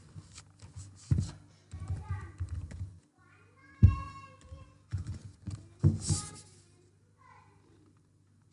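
Someone types on a computer keyboard while writing C++ code in VS Code, producing irregular bursts of clicks and taps with pauses between them and some louder thumps.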